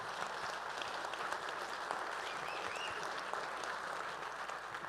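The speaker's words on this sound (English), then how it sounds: "Boy, there's an applause for him already" Applause from an audience at a post-film Q&A for I AM HUMAN greets a guest scientist, dense sustained clapping filling the room evenly for several seconds with no voices over it.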